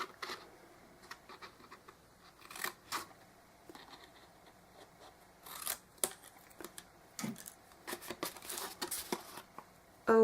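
Scissors snipping through paper and card while an altered canvas craft project is prepared with Diemond Dies and Scotch tape, heard as faint, irregular short cuts and rustles spread across the clip with no talk.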